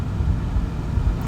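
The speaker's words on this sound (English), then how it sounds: "I just want to apologize for any traffic sounds" Road traffic heard from inside a driving car, a continuous low rumble of tyres and engine with slight surges, alone and fairly loud.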